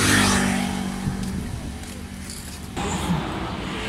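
A Honda CR-V 2.0 DOHC AWD automatic drives with a steady engine and road roar heard from inside the cabin, swelling slightly as it accelerates.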